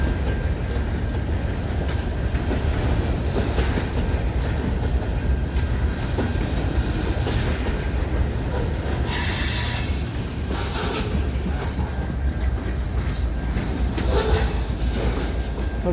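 New CN freight hopper cars, some built by Hawker Siddeley, roll past close by in a steady, loud stream of clickety-clack wheel noise with brief metallic squeals and hiss, no voices.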